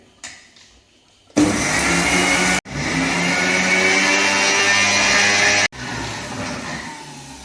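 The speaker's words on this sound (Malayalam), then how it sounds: "അത് ഇതിങ്ങനെ തന്നെ പൊടിച്ചിട്ട് എണ്ണ ഇറങ്ങി വരും" A mixer grinder whirs loudly as it grinds roasted coconut into paste, in two long bursts separated by a short pause, after a quiet start with a faint clatter.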